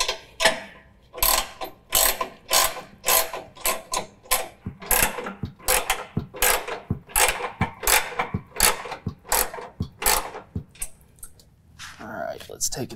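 A ratchet clicks in quick bursts while turning the deck adjustment bolt on a John Deere S220 riding mower, the pawl chattering in close, loud repeated strokes with short pauses and a few quieter clicks toward the end.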